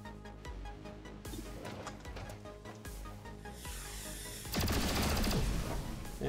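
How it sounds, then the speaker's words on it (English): Burst of rapid gunfire from a soldier's weapon in XCOM 2, sharp cracks layered over game music, growing louder and denser toward the end. "Going to take a shot with our these three rounds."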